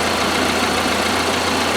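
A 1981 Alfa Romeo Spider Veloce engine idles steadily after warming up to temperature, a continuous low rumble with an even, unbroken tone and no voices.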